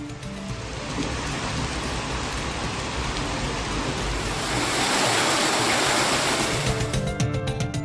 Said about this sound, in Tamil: பலத்த மழை பெய்தது